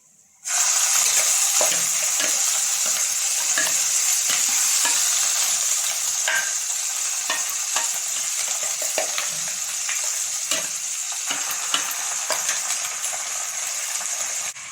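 Onion and ground masala paste frying in oil in a home kitchen, a loud, steady sizzle that starts suddenly and continues with occasional spoon scrapes and stirring clicks, with no talk.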